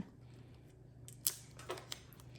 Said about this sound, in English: you can snip the transfer tape just a little bit